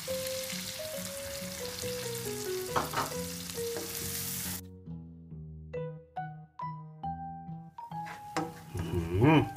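Shrimp stir-fried with curry powder, beaten egg and water in a pan, sizzling steadily while a spatula stirs and scrapes, close by, with background music notes over the frying.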